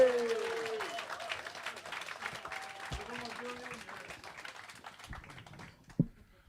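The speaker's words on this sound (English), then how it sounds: "Make some noise for Julian Lee!" Audience applause at a comedy club greets the first act, a dense steady patter of clapping with a few whoops, fading out near the end under a brief voice.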